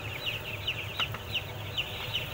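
Young chickens, about five days old, in a poultry house, chirping in repeated high peeps over a low steady mechanical hum, with a few soft clucks and faint knocks in between.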